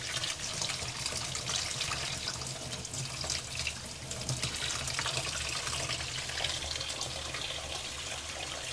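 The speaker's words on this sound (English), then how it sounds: "so now I'm just going to let the water run." Tap water runs steadily through a bathroom vanity sink drain just cleared of a large hair clog, a continuous close rushing and gurgling wash with no pauses.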